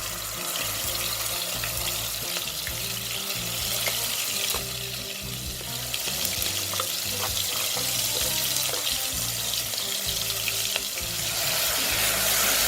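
Lemongrass and chili paste fry steadily in a wok for Nyonya chicken curry with coconut milk, a continuous close sizzle and hiss with occasional stirring scrapes, no talking.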